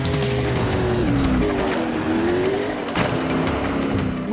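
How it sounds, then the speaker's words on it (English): A car driven in the iPhone game Race After 1977, with a steady engine drone whose pitch rises and falls through gear changes, heard up close and continuously. "you hop in a car and drive around"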